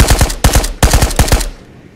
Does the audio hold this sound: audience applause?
no